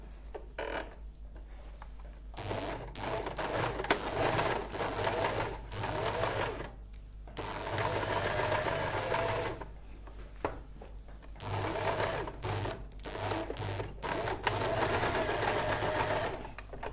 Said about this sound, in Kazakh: біз 1 сантиметрмен тігіп шығатын боламыз. Зигзагпен кетіп баратыр.